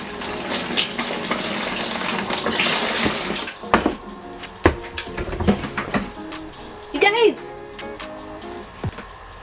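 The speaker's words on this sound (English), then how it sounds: "I'm gonna put some water and see if it drips out." Water pours and splashes into a plastic greywater tote, then thins into scattered drips and trickles with knocks and handling noises, a voice speaking over it.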